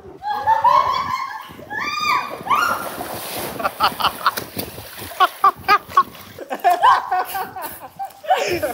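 Two people floating on a flotation aid in the sea at Kuakata at sunset make sloshing splashes near the microphone while they talk and laugh.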